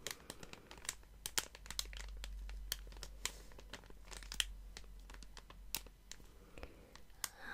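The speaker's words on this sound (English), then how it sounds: "I'm going to try and make delicate crinkling sounds with them" Haul items, including a concealer, give off soft, delicate crinkles close up, a quiet, irregular stream of small crackles and rustles with no talking.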